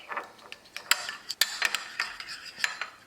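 Melted butter mixed with sriracha and parsley flakes is stirred briskly with a utensil in a bowl, making close, rapid clinks and scrapes in an irregular rhythm with no talking.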